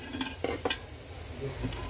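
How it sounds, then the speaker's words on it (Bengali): Potato and okra fry in a pan with a low sizzle, broken by a couple of quick metallic spatula clinks and scrapes against the pan, quiet and close. "আর এখানে তুলতুলের জন্য একটু আলু আর ভেন্ডি ভাজা করছি"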